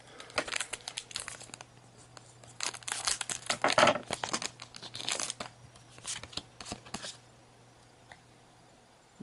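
Pokémon Emerald Break booster card packs being torn open and crinkled, the foil wrappers crackling in close bursts of loud rustling that fade to quieter handling toward the end.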